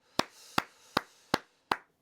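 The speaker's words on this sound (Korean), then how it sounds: "하나님께 영광의 박수 올려드립니다." Five sharp hand claps, evenly spaced and close, ringing briefly in a quiet room with no talking, given as applause during a church worship service.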